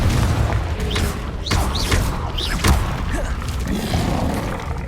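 Fire-blast spell explosions in the video game Hogwarts Legacy, with loud, booming, dense rumbling blasts and whooshes running continuously throughout.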